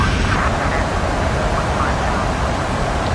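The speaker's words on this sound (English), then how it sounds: "We're just going to do normal reverse thrust." Roar of Boeing 737 reverse thrust during landing rollout in the PMDG flight simulator game, Anchorage to Fairbanks flight, a loud steady broadband rumble and hiss held throughout.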